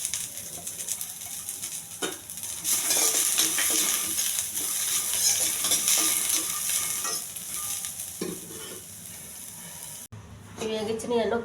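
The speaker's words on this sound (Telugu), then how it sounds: "కొద్దిగా ఆయిల్, పల్లీలు బాగా ఎగచాలండి, కరివేపాకు," Peanuts, curry leaves, green chilli and ginger fry in hot oil with a steady, loud crackling sizzle and stirring scrapes; the hiss dips sharply near the end, then resumes.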